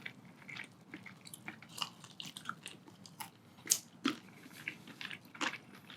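Crunchy bites and chewing of boneless honey shoyu fried chicken from a KFC plate lunch in Oahu, Hawaii, a series of sharp close crunches and squishy mouth sounds at an irregular pace, with no talking.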